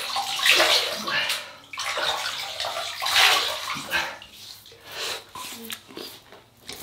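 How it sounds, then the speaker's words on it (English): Water splashes close up as a face is wetted at a basin before a wet shave with an Edwin Jagger DE89L safety razor, coming in several sloshing bursts with short pauses between handfuls. "I will wet the face."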